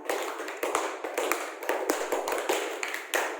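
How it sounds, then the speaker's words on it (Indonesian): Children in a classroom clap their hands, a dense run of sharp, close claps with a few louder accents throughout, no talking over it. "Tepuk tangan dulu untuk kita semua."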